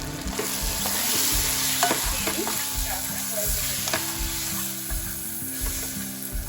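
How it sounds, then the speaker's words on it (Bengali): Chili powder and cumin powder sizzle in oil with fried onion, ginger, garlic and tomato, producing a continuous close crackle and hiss while a utensil stirs and scrapes the pan throughout. "পেঁয়াজ, আদা, রসুন, টমেটো ভাজা হয়ে গেছে, দিয়ে দিচ্ছি 1 চামচ লঙ্কার গুঁড়ো, 1 চামচ পরিমাণে জিরা গুঁড়ো"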